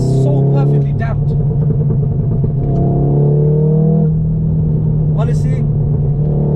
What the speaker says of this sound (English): Like the road is quite bumpy, but your car can genuinely take it